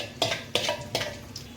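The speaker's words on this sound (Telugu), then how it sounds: "ఎండుమిరపకాయలు పోపు వేసుకుంటాం" Urad dal, chana dal, mustard seeds and dried red chillies temper in a little hot oil for a bottle gourd curry; a spoon strikes and scrapes the pan in sharp clinks about every half second over a soft sizzle.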